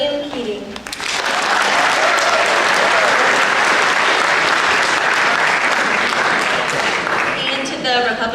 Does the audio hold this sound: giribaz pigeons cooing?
no